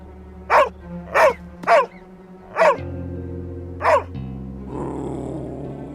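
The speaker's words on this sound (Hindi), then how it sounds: "अरे कोई तो इस कुत्ते को चुप कराओ यार।" A dog barks five times in a steady series, fairly close and loud, over a low continuous growl, with a rougher noise taking over at the end.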